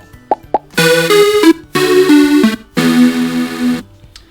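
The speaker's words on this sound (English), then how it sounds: "there's a sound called loose that we can play when we broadcast defeat." Scratch's built-in "lose" sound effect: two quick plops, then three descending synth tones in a sad game-over jingle, loud and clear with no talk.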